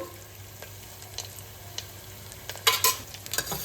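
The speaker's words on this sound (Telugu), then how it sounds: "ఎర్రగడ్డ ముక్కలు ఈ విధంగా ఫ్రై అయితే సరిపోతుంది" Onion pieces fry in a pan for a Rayalaseema-style country chicken curry, giving a steady soft sizzle, then a few sharp clinks and scrapes of stirring near the end; no voices.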